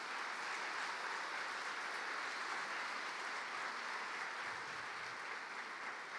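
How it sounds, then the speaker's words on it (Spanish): A church congregation applauds during a testimony service, a steady, dense wash of many hands clapping at a fairly distant, even level for several seconds with no talking over it. "Si alguien le quiere dar un aplauso al Señor,"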